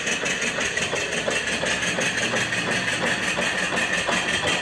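An antique mill steam engine runs on live steam, giving a steady, loud, rhythmic mechanical chugging that continues evenly throughout with no voices.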